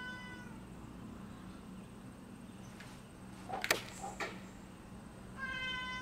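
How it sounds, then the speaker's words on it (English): A cat meows faintly, once near the start and again near the end, over a steady low room hum, with a couple of brief clicks in between. "Cat's meowing."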